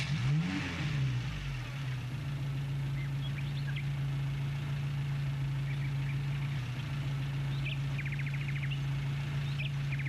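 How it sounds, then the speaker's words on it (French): A car engine revs briefly, then settles into a steady mid-pitched drone as the vehicle drives on, heard continuously with faint bird chirps in the background and no speech. "Madame McDonald fit démarrer sa belle voiture"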